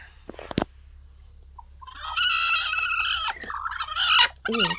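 A broody hen sitting on eggs lets out agitated, squawking clucks up close, rising into a loud harsh run near the end, with a few sharp knocks before.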